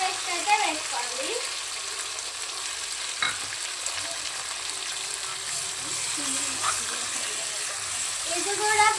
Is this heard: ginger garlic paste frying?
yes